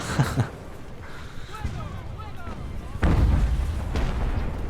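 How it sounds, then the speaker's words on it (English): Booming cannon blasts and sharp musket fire crackle in bursts in the video game Ultimate Admiral: Age of Sail, with a heavy rumbling volley near the end, while faint speech sits underneath. "Especially while taking cannon and musket fire"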